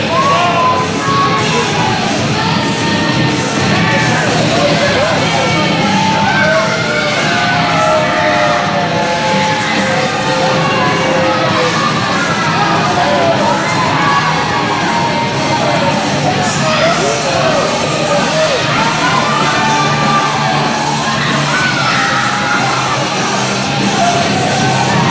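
Wrestling crowd at an ASW Boone County Brawl show cheering, yelling and whooping continuously, a loud dense roar of many voices with individual shouts rising throughout.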